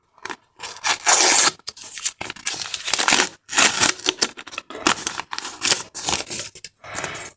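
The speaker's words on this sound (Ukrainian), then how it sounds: "Відкриваємо наш пакетик нарешті." A paper surprise packet being torn open in loud, ragged bursts of ripping and crinkling, separated by brief pauses, close up.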